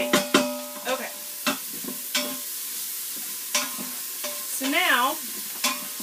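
Butter and garlic cooking in a Quick Cooker, a gentle sizzle beneath scattered knocks and a brief spoken phrase from the cook.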